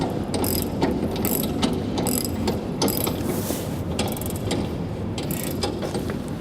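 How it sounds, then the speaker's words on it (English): Ratchet clicking steadily as the drive chain on a grain bin paddle sweep is tightened at the head section, a dense run of close, loud metallic pawl clicks with gear rattle lasting throughout. "So here we're tightening up the chain, getting the slack out."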